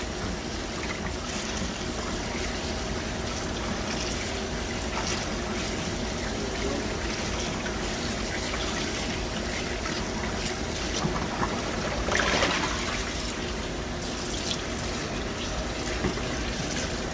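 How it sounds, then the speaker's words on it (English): Tap water runs steadily over peeled, deveined shrimp being rinsed, a constant close hiss and trickle with no talk. "we're just gonna give them a quick little rinse"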